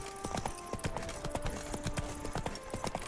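Horse hooves clip-clopping at a steady walking rhythm in The Witcher 3, up close, with a game music tone running underneath and no talking.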